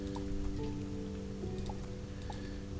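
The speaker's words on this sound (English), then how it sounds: "although it's raining" Steady rain pattering in the video game Starbound, a continuous soft hiss throughout, layered under sustained game music tones.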